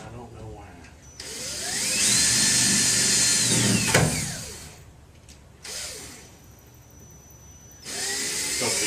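A power drill driving self-tapping wood screws that are hard to start, whining in several loud bursts of a few seconds each with pauses between, close by, while a person talks.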